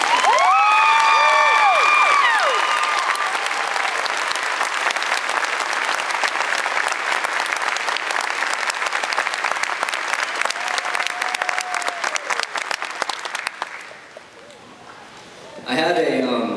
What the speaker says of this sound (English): I'd like to have you join me in giving a rousing round of applause